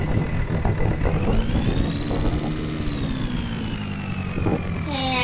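A Mahindra 475 tractor engine in a video game drones steadily while driving on a road, its pitch rising and settling as it revs, loud and continuous with no talking.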